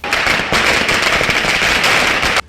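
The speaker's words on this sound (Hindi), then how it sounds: "वहां कांग्रेस के कई समर्थक अपने घरों से बाहर निकले और एक जगह जमा होकर आतिशबाजी की" Dense, continuous crackling of firecrackers and fireworks set off by a crowd of Congress supporters celebrating a by-election win in Himachal Pradesh, loud and close, running steadily for a couple of seconds before stopping abruptly.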